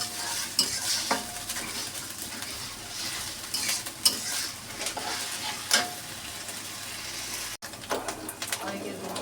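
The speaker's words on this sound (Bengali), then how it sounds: "পেঁয়াজ আর জিরা বাটাটাকে ভেজে নেব একটু" Onion and cumin paste sizzles steadily in a hot pan while a spoon scrapes and stirs it in repeated clinks, close up, with a voice talking quietly over the cooking.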